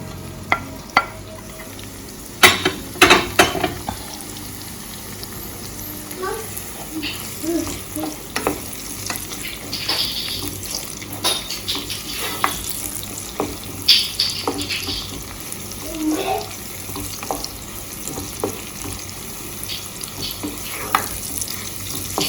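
Scallion, garlic, onion and saltfish sautéing in a pan for a Jamaican breakfast, a continuous sizzle broken by sharp scraping and stirring clicks of a utensil against the pan, close and fairly loud.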